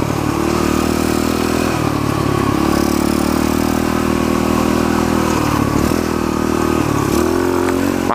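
A pit bike engine drones loud and close while riding, holding steady revs with brief dips and rises as gears shift.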